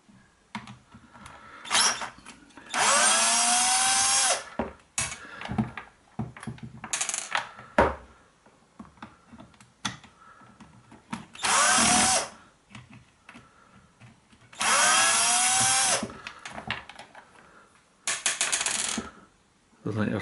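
Power driver fitted with a T15 Torx bit backing screws out of a Hilti TE6S SDS drill, several loud whirring bursts of a few seconds each, with clicks and handling noises between them, close by.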